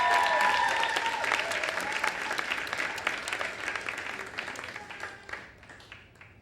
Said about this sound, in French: Applaudissons-la.